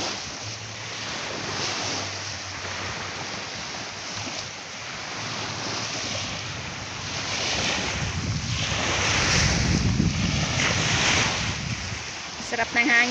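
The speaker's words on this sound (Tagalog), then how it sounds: "Sarap ng hangin." Seaside wind rushing steadily past the microphone with a broad roar, growing louder toward the end, and surf washing faintly beneath it, no voices present.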